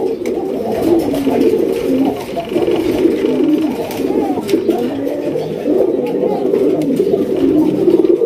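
Pigeons at a breeding farm cooing continuously, several soft, low throaty coos overlapping close by in a steady murmuring chorus with no talk.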